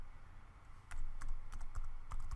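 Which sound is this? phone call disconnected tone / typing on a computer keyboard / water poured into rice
typing on a computer keyboard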